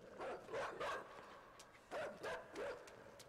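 A dog in the video game INSIDE gives two pairs of short barks and yips, moderately loud over a noisy background, with a pause between the pairs.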